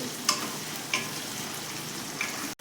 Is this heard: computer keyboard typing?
no